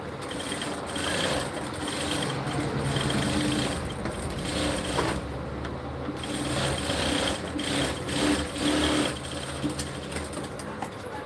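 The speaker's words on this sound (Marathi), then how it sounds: "इथे आपण यावरती शिलाई करायची ना" A sewing machine stitches kurti fabric at steady speed, its mechanical whir and rapid needle chatter continuous and fairly close, with slight changes in pace and no talking.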